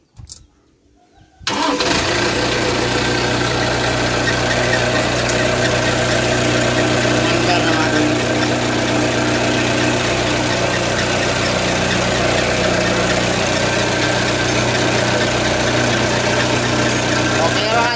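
Safe loader engine cranking and catching after a brief quiet moment, then settling into a loud, steady idle close by for the rest.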